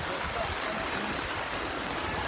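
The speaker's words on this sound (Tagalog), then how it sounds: "yung tubig dito, umaapaw na" Rushing floodwater during Super Typhoon Odette in Barangay Bugo, Mindanao, pours and churns in a steady, broad roar, like a swollen stream overflowing, with no clear breaks.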